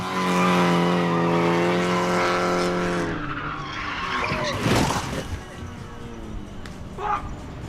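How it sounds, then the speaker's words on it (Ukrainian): A car drifts sideways with screeching, skidding tyres in Need for Speed Underground, first a loud sustained engine note, then squealing slides and bursts of tyre noise that fade toward the end. "Тачка слухається водія та спокійно наваля боком, доки вам потрібно."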